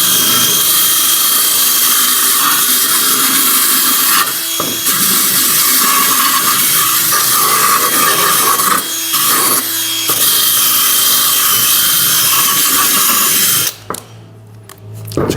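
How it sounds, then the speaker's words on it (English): A wire brush attachment on a drill cleans small Jaguar XKR parts in a barn, giving a loud continuous whirring scrub that drops out briefly twice and cuts off near the end. "So I'm just going to use the wire brush attachment on the drill."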